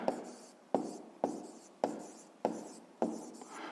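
Pen or pencil writing numbers by hand for a fifth-grade math exercise, a series of about six short scratchy strokes in a steady rhythm, close and soft, with no talking.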